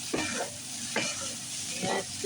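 Chicken fried rice with veggies gets stirred in a hot pan: a constant sizzle with three rhythmic scraping sweeps of the spatula, close and moderately loud, with no talk.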